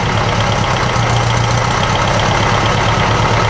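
A rotten old 1956 VW Beetle engine idles while warming up, a steady, loud, slightly uneven air-cooled rumble running without a break and with no talk over it.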